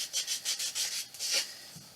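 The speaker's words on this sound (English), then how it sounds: "let me just sand this down really quick here" Used pallet wood being hand-sanded, a close run of quick rhythmic scratchy strokes with short pauses between passes, fairly quiet with no talk.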